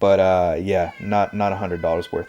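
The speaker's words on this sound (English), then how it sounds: "And that's my cat meowing in the background." A needy pet cat meows loudly in a long wavering call, followed by shorter meows, mixed in with someone talking over it.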